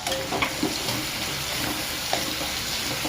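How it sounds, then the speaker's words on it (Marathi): Chopped onion sizzles steadily in hot oil in a pan, following garlic, for a Maharashtrian prawn masala fry; a continuous close, bright frying hiss with a few faint stirring scrapes and no talk. "लसूण टाकल्यानंतर आपण या टाकूया कांदा कांदा टाकूया कांदा"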